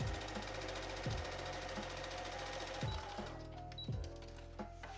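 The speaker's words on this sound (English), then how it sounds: "I'm going to put the trim pretty side to pretty side around the sleeve, and I'm going to sew around this edge" A sewing machine stitches lace trim around a sleeve edge, whirring close and steady in a fast mechanical rhythm, with several distinct clunks as it pauses and restarts before slowing near the end.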